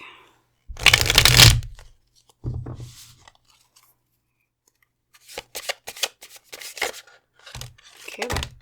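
A deck of oracle cards is shuffled in crisp riffling bursts, with a long one near the start and shorter ones later, separated by quiet pauses. The sound is close and has no voices over it.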